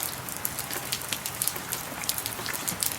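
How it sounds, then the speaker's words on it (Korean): Light spring rain patters steadily on surfaces outdoors, a soft continuous hiss dotted with faint individual drops, no voices over it. "단비가 내리고 있어서"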